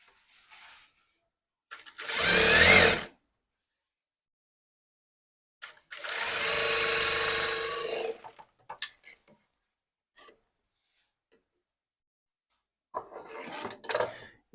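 Sewing machine stitching a blouse seam a presser-foot width in, heard as two loud bursts of motor whir with quiet pauses and soft handling noises between them.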